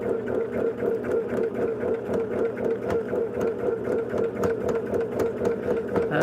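A sewing machine runs at a steady rhythmic pace with a badly wound bobbin, its mechanism whirring and ticking in even repeated cycles close up.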